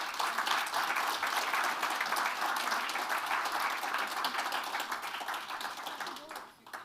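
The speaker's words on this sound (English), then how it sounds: "So let's give them a round of applause." An audience at a disability community gathering applauds a panel with dense, steady clapping that fills the room, holds evenly, then thins and fades toward the end.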